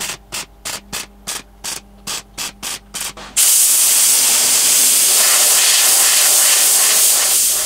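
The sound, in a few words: spray painting cold gal paint on welded Landcruiser patch panels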